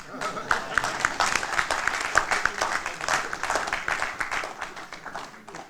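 Audience applause in a hall at a Kinshasa gathering for former Imana players, a steady dense patter of many hands clapping at moderate volume, with voices and cheers mixed in.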